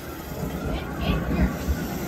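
Royal Railway themed train ride aboard the Utopia of the Seas cruise ship, rumbling along with steady low rolling noise and soft clatter, close and continuous, with voices faintly underneath.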